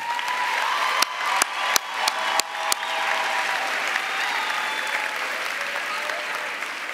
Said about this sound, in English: So can we give them a round of applause also?